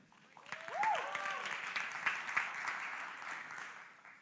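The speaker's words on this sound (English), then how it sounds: "A big round of applause for Parallel18's." An audience at a startup demo day breaks into applause that swells quickly and holds as a steady crowd clapping, with a brief vocal exclamation near the start.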